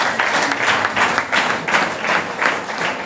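Sustained applause from a church concert audience honoring the Itabaza choir in Bushoga, dense steady clapping filling the space for several seconds, loud and continuous with no break.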